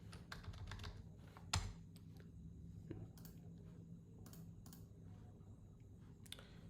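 Typing on a computer keyboard during Mac software setup, with faint scattered key clicks and a sharper tap amid quiet room hum.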